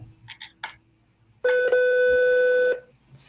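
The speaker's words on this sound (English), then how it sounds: "We're going up to 400 hertz." A generated pure tone at 400 hertz sounds as one steady, loud electronic beep lasting about a second and a half. It sits between quieter background sounds, and no talk is heard over it.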